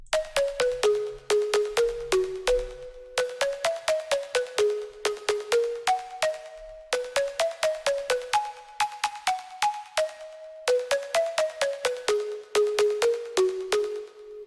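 Bright synth pluck notes play a repeating melodic pattern of short, evenly spaced plucks with quick decays, clean and upfront, alone without voices.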